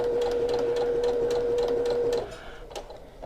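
Sewing machine stitching a scant quarter-inch seam on quilt pieces, a close steady whirring hum for about two seconds that then stops, leaving soft handling sounds.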